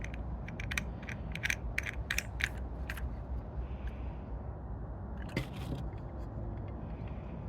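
A Scotty 141 transducer mount being tightened on a kayak, with a series of quiet ratcheting clicks and mechanical creaks, close and sparse, over a low steady background hum.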